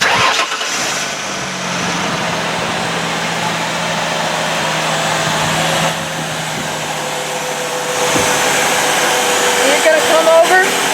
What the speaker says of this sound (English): Turn your engine on.